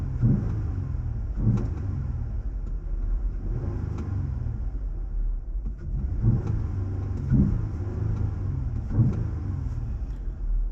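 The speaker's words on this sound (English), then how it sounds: "I will here go ahead and get a sound clip right quick for you, just kind of revving in the driveway." A Jeep Gladiator fitted with an S&B cold air intake idles in a driveway with a low, steady rumble, broken by several short revs that swell and fade at a moderate distance.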